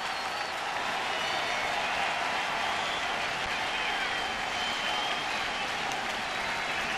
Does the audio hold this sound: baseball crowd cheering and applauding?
yes